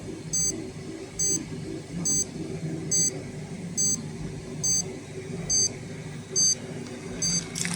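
Under rising radiation from a smoke detector source, a Geiger counter dosimeter alarm beeps louder in a steady train of piercing, high-pitched electronic bursts, about one per second, close and prominent over a low room hum.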